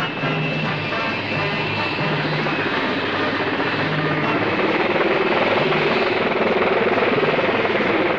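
A Mil Mi-10 flying crane helicopter at Gatwick drones with a loud, steady rotor and turbine roar that swells slightly toward the end, with no voices over it.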